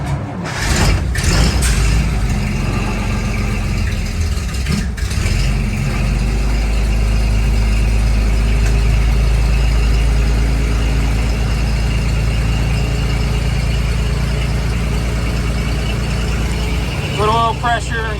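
A cold 1944 Dodge WC56 command car engine runs loud and close in a steady, rough idle, with a few sharp knocks early on and a brief squeal near the end.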